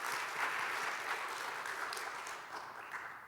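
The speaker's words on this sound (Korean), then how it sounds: "우리 귀한 찬양으로 섬겨주신 찬양대를 위해 다시 한번 큰 박수를 부탁드리겠습니다." A church congregation applauds the choir after a hymn, a steady, full burst of many hands clapping that stays even and fairly close before tapering slightly at the end.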